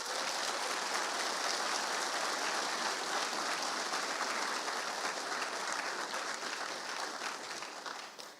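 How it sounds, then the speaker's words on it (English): Audience members at the NorthSec 2025 security conference keep up a sustained, even round of applause for about eight seconds, heard from some distance in a large hall before it tapers off at the end. "A round of applause for them, please."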